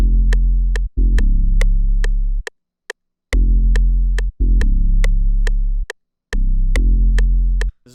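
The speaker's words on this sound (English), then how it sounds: "Then I have the sub, which is going to sound like this." Deep sub bass notes in a trap beat, held in long sustained blocks with short gaps, loud and alone, while a sharp clap or tick hits on a steady rhythm above them.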